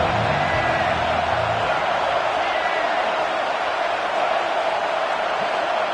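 Stadium crowd roaring steadily at a college football game between UT and Colorado on a big third down, a dense continuous wash of cheering and noise with no break throughout.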